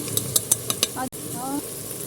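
Spices with salt and turmeric stirred and fried in a pan for aloo methi, a run of quick close spoon clinks against the pan over a steady sizzle, then a brief cut and a quieter stretch with a voice.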